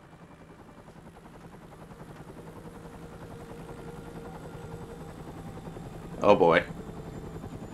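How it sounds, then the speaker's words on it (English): A helicopter from the Stranglehold video game drones low and steady, slowly growing louder throughout, while someone speaks briefly near the end. "I'm sending a chopper."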